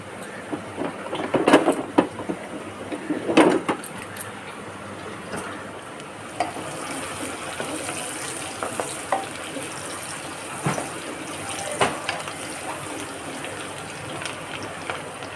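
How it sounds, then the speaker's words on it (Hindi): Sliced onions sizzle in a hot pan as they fry toward golden brown in a home kitchen, a steady crackling hiss with a few louder spatters and stirring bursts near the start. "तो इसमें मैं प्याज डाल दूँगी और प्याज डालने के बाद इसे गोल्डन ब्राउन मैं कर लूँगी"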